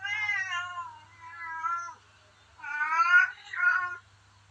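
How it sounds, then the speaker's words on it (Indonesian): A pet cat meows close by in several drawn-out, tonal calls, two longer ones, then a short pause before two more, over a faint low hum with no talking. "Maaf ada suara kucing saya."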